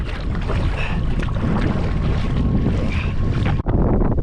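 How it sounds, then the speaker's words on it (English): Strong wind on a lake during a bass fishing outing, a loud continuous roar of gusts buffeting the microphone with a boat on the water, sustained throughout with a brief dip near the end, no talking. "And now that wind picks up when it's time to go home."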